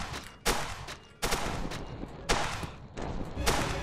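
Guns firing at orcs in the VR game Dungeon Knight: several sharp, loud shots spaced about a second apart, each followed by a rumbling, echoing tail that fills the gaps between them.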